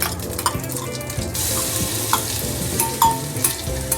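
Garlic and cumin seeds frying in hot oil for a Punjabi aloo matar sabzi, a steady loud sizzle broken by scraping stirs of a spoon against the pan.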